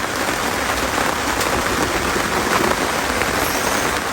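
Rain falling heavily during a fishing camp trip, a dense, continuous hiss of drops on surfaces, steady and loud throughout with no talk.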